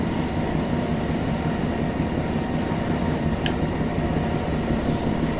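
A train in the Train Sim World 2 game on the Tees Valley Line, shunting at a steelworks on PlayStation 4, rumbles steadily and loudly with continuous rolling wheel and engine noise, one brief squeal-like tick midway and no talking.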